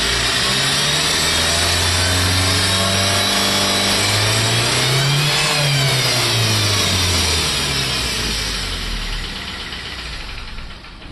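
A Tata Safari Storme 2.2 EX diesel engine with a burst pipe and a seized engine revs loud and close, rising and falling in pitch with a rough, knocking roar throughout, without talk.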